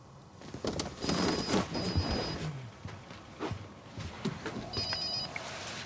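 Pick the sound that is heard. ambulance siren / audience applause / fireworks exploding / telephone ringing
telephone ringing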